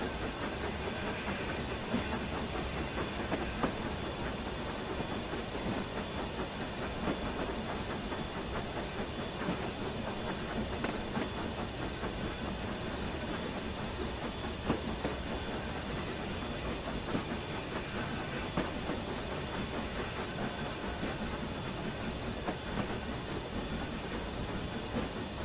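The LMS Princess Coronation Class steam locomotive Duchess of Sutherland climbing a 1 in 81 gradient on the Western Lines of Scotland in Train Simulator 2016, a steady rumbling hiss with faint rhythmic wheel clatter, low boiler pressure, unbroken for the whole stretch.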